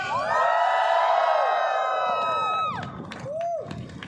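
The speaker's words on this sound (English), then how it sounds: "Give them a big applause." Audience at a dance fitness festival inaugural event cheering, whooping and applauding loudly, with a sustained high crowd shout that drops off into scattered claps and a second brief rise of cheering.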